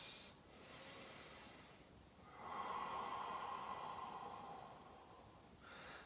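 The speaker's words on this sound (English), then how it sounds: "Nice deep breaths" Deep, slow breaths from a person during a yoga vinyasa flow, close and breathy: a long exhale-like hiss followed by a fuller drawn breath, with no talking.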